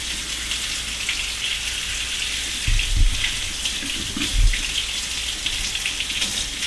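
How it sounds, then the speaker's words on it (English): Hot water runs steadily from a kitchen faucet into a sink, a constant close hiss and splash with a few heavier gurgles partway through, and no voices. "I'm going to take that right out of the faucet there. Actually, let it run for just a second."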